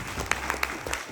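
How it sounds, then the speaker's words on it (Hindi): An audience claps in short scattered bursts at a business talk, a brief patter of hands close by with a few sharper claps standing out. "उनके नाम पे तालियां चाहूंगा।"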